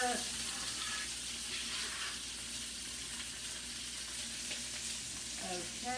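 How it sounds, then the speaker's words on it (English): Onion, peppers, carrots and sausage stir-fry in a hot pan with a steady, close sizzle and crackle that holds an even level throughout. "I'm going to stir fry this just a little bit"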